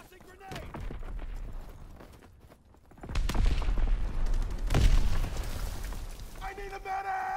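A grenade explodes amid gunfire in a war video game, sustained shooting building into a heavy, booming blast with rapid fire continuing around it and shouted voices over the fighting.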